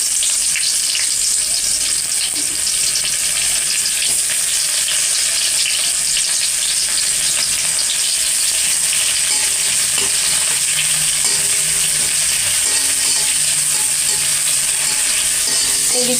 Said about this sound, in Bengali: ফোড়ন, জিরে, রাঁধুনি দিয়ে দিলাম। পেঁয়াজ দিয়ে দিলাম।